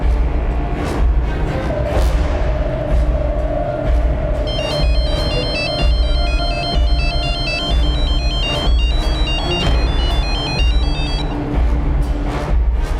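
A mobile phone ringtone rings on and on without being answered, a repeating electronic melody playing loudly over a steady background hum.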